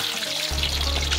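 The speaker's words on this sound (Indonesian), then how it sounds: "Ikan hasil nyeser tadi kita olah dengan cara digoreng seperti ini." Fresh fish from a small ditch fries loudly in a pan of hot oil, with a dense, steady sizzle and crackle filling the space up close.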